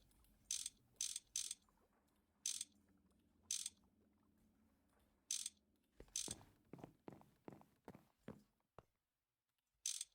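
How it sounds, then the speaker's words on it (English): Combustion generators run in Minecraft GregTech New Horizons with sharp ratcheting clicks, first spaced apart, then quickening into a rapid mechanical chatter before a short pause and one final click. "All the combustion generators are going."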